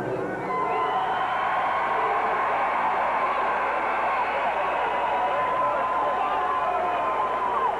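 Basketball arena crowd at a women's college game against Alabama reacting after a player fouls out, a loud sustained murmur and cheer filling the hall throughout, with voices mixed in.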